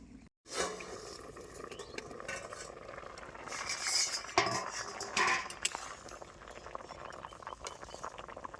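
A lid is lifted off a pot of raw mangoes boiling on a village stove, giving a burst of metallic clinks and scrapes over a steady bubbling hiss, with no voices.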